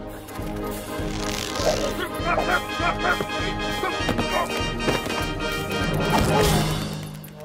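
A dog inside a house barks and yips repeatedly at close range, mixed with clattering knocks and someone talking over the commotion.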